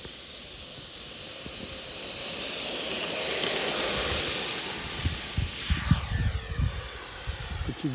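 An E-flite F-16 RC model jet flying overhead, its electric ducted fan whining steadily at a high pitch, loudest mid-pass then shifting as it moves away, with wind buffeting the microphone.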